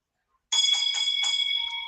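A bright chiming bell rings out suddenly after a moment of silence, several quick pulsing strikes settling into a sustained ringing tone that fades slowly, clear and prominent with no voices.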